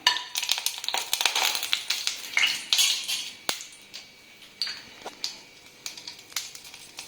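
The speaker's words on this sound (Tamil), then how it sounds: "இதுல ஒரு பட்டை, 2 ஏலக்காய், 2 கிராம்பு சேர்த்துடலாம். சேர்த்துட்டு லைட்டா கிளறி விட்டுடலாம்." Whole spices (cinnamon stick, cardamom and cloves) stirred in hot oil in a pan for a hotel-style chicken gravy, with repeated metallic spoon clinks and scrapes against the pan, busy at first, then sparser.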